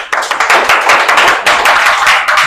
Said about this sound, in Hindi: एक ताली तो बनता है भैया।